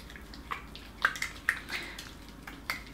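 A castile soap bar is washed in slightly warm water, giving quiet, intermittent splashes and soft swishing against a low, steady background.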